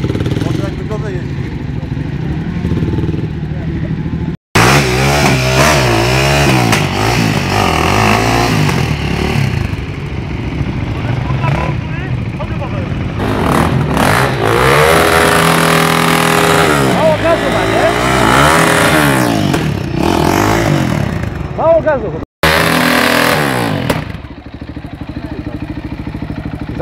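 A KTM enduro motorcycle revs hard at an enduro event near Krzeszowice, the engine loud and close, climbing and falling in repeated bursts of throttle with brief cuts, while people talk nearby.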